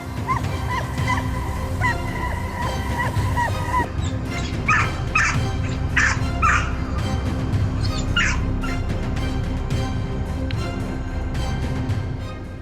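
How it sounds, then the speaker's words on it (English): A domestic dog barking outdoors in rural Australia, a series of loud, sharp barks and yips in uneven bursts over a constant busy background. "dog's barking can startle a fox and cause it to flee"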